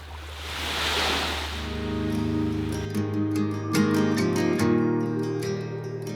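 Ocean waves wash onto a packed-sand beach in Baja, Mexico, with a broad surf rush swelling over the first couple of seconds. A steady tonal hum then rises and largely masks the waves.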